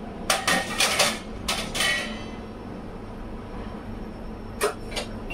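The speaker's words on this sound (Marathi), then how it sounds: "भांडे लावते." Washed steel vessels clink and clatter in a home kitchen as they are stacked away, a burst of sharp metallic knocks followed by a pause and a few more clanks over a low background hum.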